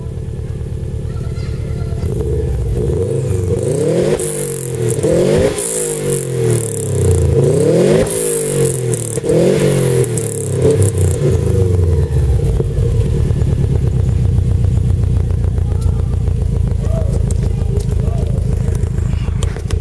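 Subaru WRX with a decatted downpipe, decatted uppipe and Toyosports exhaust revved repeatedly, each burst rising and falling in pitch with a rattly burble, then settling to a steady close idle.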